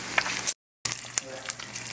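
Pork chops sizzle in a frying pan with a steady hiss, cut by a half-second gap of silence before the frying resumes with small crackles.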